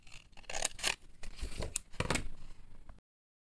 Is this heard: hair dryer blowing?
no